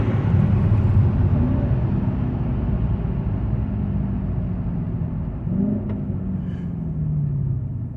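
A Nissan/Infiniti car brakes suddenly and downshifts with rev matching: a steady engine and road rumble with brief rising engine blips as the gears drop, heard from inside the cabin.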